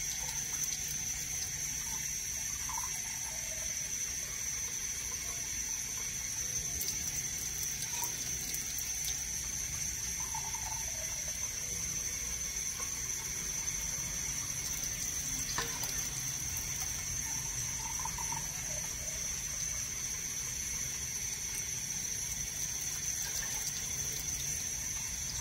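Tap water runs steadily into a cooking pot to be brought to a boil, a faint, even rushing with a constant high whine throughout and no talking.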